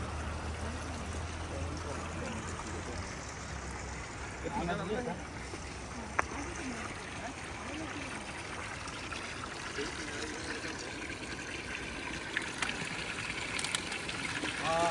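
Cold mountain spring water runs steadily from above near a small temple, a continuous broadband wash with a few brief knocks, while voices occasionally speak over it.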